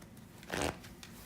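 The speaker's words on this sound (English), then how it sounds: "we're going to give the pack a few shuffles" A pack of playing cards gets a single quick shuffle, a short, close riffling burst that rises and stops within a fraction of a second, with faint fainter card handling around it.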